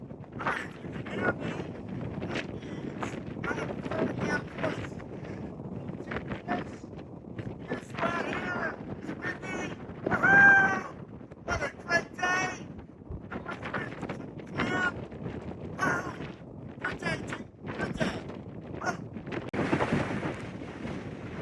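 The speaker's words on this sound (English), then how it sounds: "Man, you can hear the wind up here now. It just kicked up." Strong wind gusting across the summit of McAfee Knob on a night hike, roaring and buffeting steadily for about twenty seconds, with brief louder surges and some faint vocal sounds.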